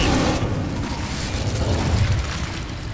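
Incendio fire spell cast in Hogwarts Legacy, a loud, sustained roaring whoosh of flames with rumbling booms underneath, steady for the whole stretch.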